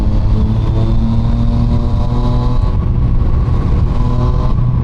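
A Yamaha MT-09 naked motorcycle roars steadily at speed, its engine drone loud and close, with buffeting wind noise throughout and no pauses.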